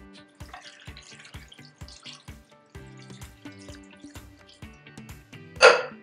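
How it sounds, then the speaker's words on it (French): Water poured into a cooking pot while preparing macabo with bitter leaf, heard as a run of close, ringing drips and trickles over quiet background sound, ending in a brief louder splash. "Vous versez de l'eau."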